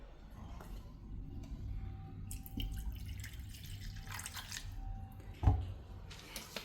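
Water is poured into a spray bottle while a homemade organic pesticide is mixed, giving a quiet trickle with soft drips and one sharper knock near the end.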